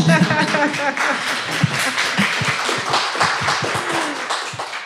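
Sharp claps from an audience at a panel talk ring out in quick succession while a voice keeps speaking over them.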